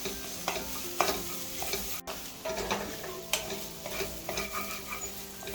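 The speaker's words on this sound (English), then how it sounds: "Keep stirring it continuously so that the ginger garlic paste doesn't stick at the bottom or burn." Ginger garlic paste fries in a pan for dal pakwan while a spoon stirs it continuously. Scraping strokes and clinks rise over a constant close sizzle, with no voices.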